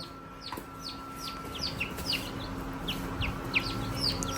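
Young chicks gathered in a tub chirp continuously with high, rapid peeping calls overlapping one another, close by over a steady background hum.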